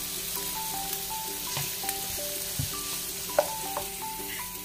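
Broccoli hits a hot pan for a stir fry, giving a steady sizzle with spoon scrapes and a few clacks of stirring over a whining hum.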